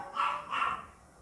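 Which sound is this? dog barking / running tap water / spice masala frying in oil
dog barking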